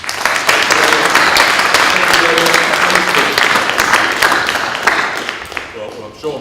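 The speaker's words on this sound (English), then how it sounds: "shall we give him a round of applause?" An audience at a transport innovation talk gives a speaker a loud round of applause, dense clapping that holds steady then thins out near the end, with a voice talking over it.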